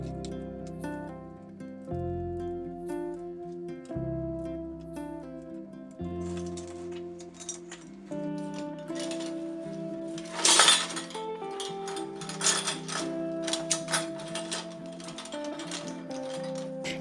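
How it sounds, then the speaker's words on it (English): Lids being threaded onto jute string give off a quick run of light metallic clinks and clatters, loudest in a short burst partway through, heard beneath steady background music. "I used some jute string to string through all of the lids"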